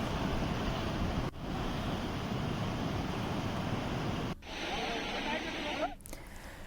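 Floodwater rushing through a swollen river at Thakurpur in Premnagar, Dehradun, a loud continuous roar with wind buffeting the microphone, briefly cut twice and softer at the end.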